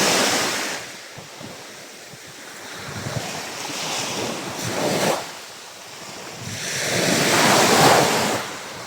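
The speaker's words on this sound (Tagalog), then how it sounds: "Medyo may alon konti lang naman." Small waves wash in and recede on Talipasak Beach in slow surges, with gusty wind buffeting the microphone between them.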